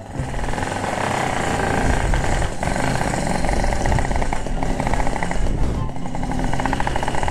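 A Yamaha RX-King motorcycle, a two-stroke with a ported engine, revving hard at close range in a loud, raspy, continuous roar that holds for several seconds with slight dips.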